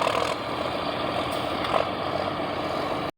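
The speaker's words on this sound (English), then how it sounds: "This is a diesel tractor converted over to a gas engine." A diesel tractor converted to a gas engine idles with a steady, dense mechanical rumble, loud and unbroken, cutting off abruptly just before the end.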